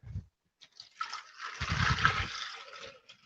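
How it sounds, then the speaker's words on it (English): Half a liter of water pours into the bowl of a Thermocook Pro M 2.0, a short splashing gush up close that starts and stops within a few seconds. "Here I have about ½ liter of water"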